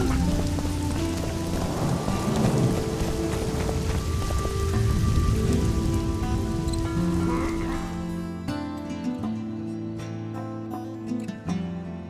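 Rain falls steadily in the video game The Witcher 2, a dense hissing patter with low rumbling beneath, easing somewhat toward the end.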